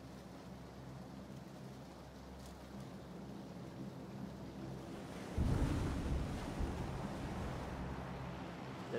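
Swimming through water in PlayerUnknown's Battlegrounds, a steady wash of splashing and sloshing that swells louder midway through, with no talk.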